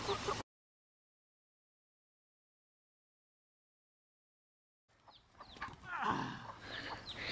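A mother hen with three chicks on a farm, heard as a brief burst of sound, then a long silence, then soft clucking and rustling close by.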